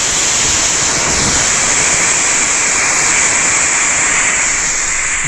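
Homemade sugar-fuelled firework rocket spraying sparks, a steady loud rushing hiss that holds without a break from start to finish.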